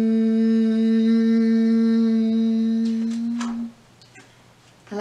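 A voice imitates a lawnmower with a steady, loud, droning hum held for more than three seconds, then breaks off into a brief breathy trail.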